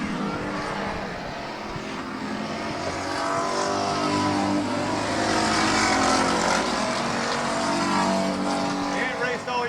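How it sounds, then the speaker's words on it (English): A race car running hot laps at Midvale Speedway, its engine a loud sustained roar that swells as it nears and fades a little as it moves off, with an announcer talking over the noise. "He's out there running hot laps at this moment"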